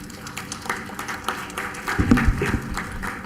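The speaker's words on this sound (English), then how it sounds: "A huge round of applause for Sir" Scattered clapping from a conference audience at a valedictory session, light and uneven at first, then building into firmer, louder claps near the end, with a faint voice in the background.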